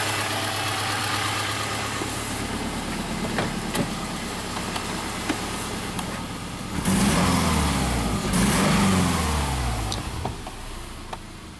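A Subaru engine idles steadily up close while a part is unplugged, then its speed rises to a higher idle around 1,000 rpm, the hum growing louder and rougher partway through.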